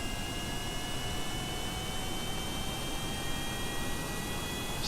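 Rocket engines firing in Kerbal Space Program, a steady dense roar with faint high whine, loud and unchanging for the whole stretch.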